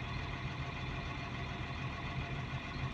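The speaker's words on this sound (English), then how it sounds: "that's why the engine is not running well" A Caterpillar 950H shovel's low-power engine runs rough during an injector test, with a steady, dense mechanical drone and an uneven low throb throughout, close and continuous with no talk.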